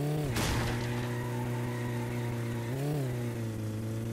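A car engine in the driving game My Summer Car revs hard with the clutch slipping, a loud continuous droning hum that dips and swells in pitch twice, with no voices.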